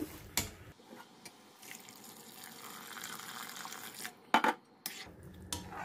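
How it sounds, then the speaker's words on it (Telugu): Water poured into cooked masala in a pot for a kofta curry: quiet splashing and pouring with a few brief clinks of metal, close and fairly faint, no talk. "ఇప్పుడు ఇందులో వాటర్ వేద్దాము"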